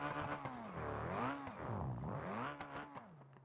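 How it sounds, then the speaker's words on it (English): A car engine in the driving game BeamNG revs up and down several times during a wheel-spin test, its whining pitch rising and falling in sweeping surges, loud and close with no voices. "I'm going to get to revs and just drop it into automatic"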